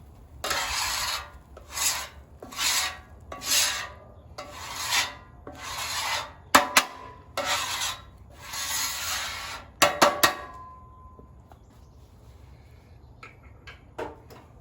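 A spatula scrapes down an electric skillet used to cook a ribeye quesadilla, giving about ten rhythmic rasping strokes close by. Lighter clatter and taps follow as the scraping stops.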